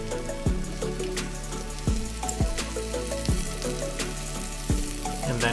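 Saffron-marinated chicken drumsticks fry in a pan over a medium flame, giving a steady close sizzle broken by several sharp clinks and taps, with no talking.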